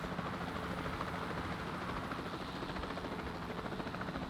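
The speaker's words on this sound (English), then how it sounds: "And we start with how to fly the helicopter" Steady, continuous helicopter rotor drone in the video game Jurassic World Evolution 2, with a dense, broad roar holding at an even level throughout, with no talking.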